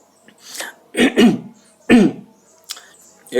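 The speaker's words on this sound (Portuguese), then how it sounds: "Eu estou com os pigarros na garganta" A person clears their throat several times in short, rough, raspy bursts, close and fairly loud, with brief pauses between.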